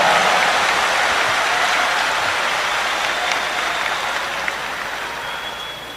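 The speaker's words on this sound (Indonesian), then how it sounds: "Tepuk tangan yang meriah." An audience at a Defend ID company gathering breaks into sustained, dense applause that fills the whole stretch and fades slightly toward the end, with no speech over it.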